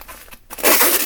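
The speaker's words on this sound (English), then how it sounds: "I think I'll just use some eBay tape on this one." eBay packing tape is pulled off the roll, with a short rasp, a brief pause, then a loud, sustained ripping screech that runs to the end.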